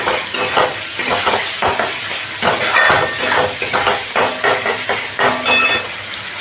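Spices and ground coriander fry in a pan while being stirred, a loud, close sizzle with repeated scraping strokes of the spoon in steady rhythm.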